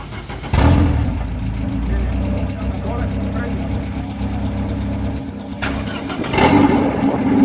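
A Bimoto Corsa with twin 2.0 XE engines and about 800 hp fires up and settles into a loud, steady idle. It runs for several seconds and swells again near the end, with people talking over it.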